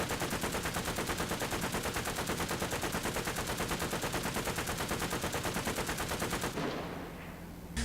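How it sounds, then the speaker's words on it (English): A DT coaxial machine gun on a T-26 tank in War Thunder fires a long, rapid, evenly spaced burst for about six and a half seconds, loud and close, then stops and leaves a fading ring. "Your coaxial machine gun is a Digturiv DT."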